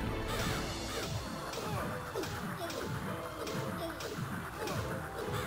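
Crows caw repeatedly in the PS1 game Medievil, harsh calls layered over a busy game soundscape with thuds and whooshes, loud and continuous.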